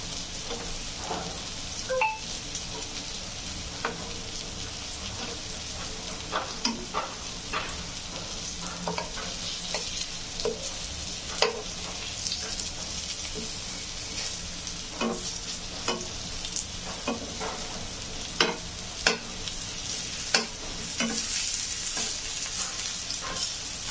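Steady sizzling of food frying in a pan, with occasional scraping and stirring clicks scattered across a long, continuous crackle.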